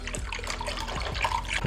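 Chicken broth poured over pork meat in a pot, a continuous liquid splashing and trickling with small gurgles throughout, close and steady.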